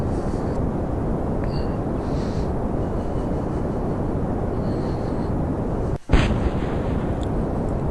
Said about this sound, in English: I don't know what that explosion was